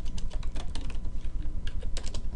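Fast typing on a computer keyboard while writing code, a close, crisp string of rapid key clicks in uneven bursts with a pause midway, heard alone.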